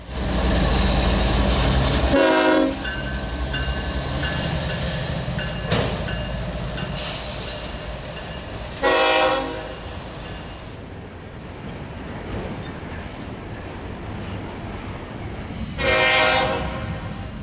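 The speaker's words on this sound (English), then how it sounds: "And lastly, train 202 passes underneath the cantilever." A train rumbles past up close under a signal cantilever in Deshler, Ohio, with a steady roar, sounding its horn in three separate loud blasts spread through the pass.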